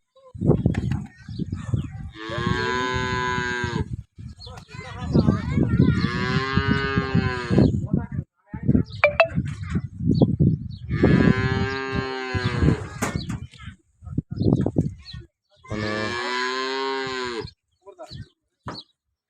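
Several cows moo loudly nearby at a village farm in Tharad, Banaskantha, long drawn-out calls repeating one after another with brief pauses between them.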